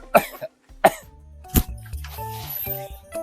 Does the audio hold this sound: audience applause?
no